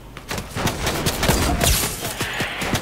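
Rapid bursts of video game gunfire crackle across the clip, a dense fusillade of repeated shots in an online shooter match, loud and close with brief pauses between volleys.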